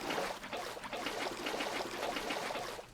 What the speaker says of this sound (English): I need to fill up all the water buckets